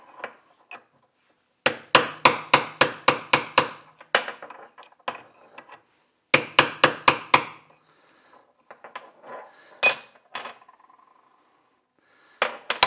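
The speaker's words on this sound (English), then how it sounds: "then you're going to work it on each side and keep tapping it like that" Sharp metallic hammer blows on a punch, tapping apart the gear and bearing of a 1966 Mercury Merc 110 9.8 hp outboard gearbox, in two rapid bursts of evenly spaced strikes followed by scattered lighter taps and clinks, close and loud.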